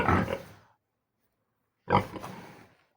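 Two short bursts of piglets grunting, close and fairly loud, separated by about a second of silence.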